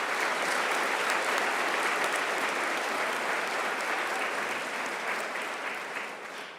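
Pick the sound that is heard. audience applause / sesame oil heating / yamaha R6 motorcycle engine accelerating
audience applause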